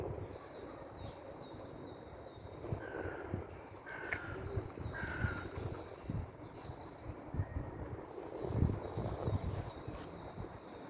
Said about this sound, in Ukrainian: Чуєте, як вони стараються, співають ці пташечки